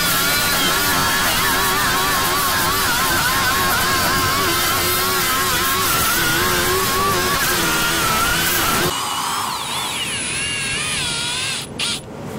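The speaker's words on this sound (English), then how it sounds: "So grind it off." A power grinder cuts a wire off a metal roof during a leak repair, a loud, close, wavering high whine that runs for about nine seconds and then drops to a lighter spinning-down hum.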